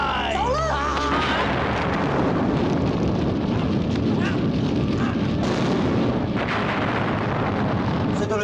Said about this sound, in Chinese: 里面爆炸喎！